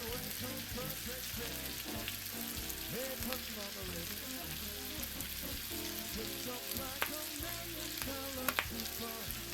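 Chopped, pitted niçoise olives fry in a pan for vegetarian penne rigate, giving a soft, steady sizzle with a few light pops and stirring sounds, fairly quiet and close, with no talk.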